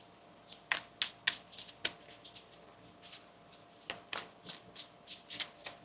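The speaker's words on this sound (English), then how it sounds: "One more shuffle." Tarot cards are shuffled in quick crisp bursts of riffling and tapping, close by, with short pauses between runs.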